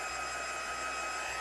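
Steady, close whir of a heat tool drying a freshly stamped card panel, a constant airy blowing hum with no breaks.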